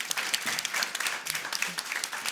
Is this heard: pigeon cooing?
no